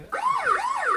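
A battery-operated kids' toy police bike sounds its electronic siren, a rapid rising-and-falling warble that starts abruptly and plays close and clear for about a second.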